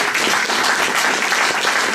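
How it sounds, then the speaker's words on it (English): Audience applause at a UFO conference, a steady round of clapping from a crowd in a hall for the conference organiser, dense and even throughout without talk. "we could have a round of applause for Robert for organising this conference"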